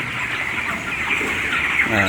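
A dense, continuous chatter of many chickens clucking together, steady and moderately loud, with indistinct voices faintly underneath.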